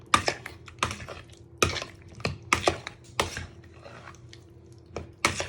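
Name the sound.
fork stirring eggs, vegetables, chorizo and potatoes in bowl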